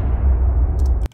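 Deep cinematic hit with a low-pass filter on, the crisp top removed: a muffled, rumbling boom tail that stays loud for about a second and then cuts off.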